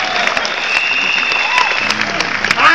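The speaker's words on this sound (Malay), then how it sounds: "Bagilah kuat sikit tepuk tangan." An audience at a motivational talk breaks into applause, a dense patter of clapping that continues throughout, mixed with crowd noise and a voice speaking over it.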